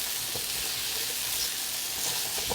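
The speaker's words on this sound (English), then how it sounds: "I'm gonna go ahead and add my potato, y'all. My chunks of potato." Potato chunks frying in ghee over medium-high heat: a steady, broad sizzle fills the whole stretch, close and even, with a few faint knocks underneath and no talking.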